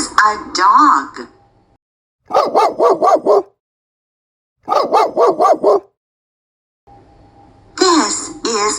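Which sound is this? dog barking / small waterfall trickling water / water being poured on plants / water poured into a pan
dog barking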